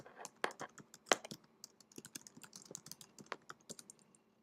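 Computer keyboard keys clatter in quick irregular bursts while a high school name is typed, close and fairly quiet, with no voices.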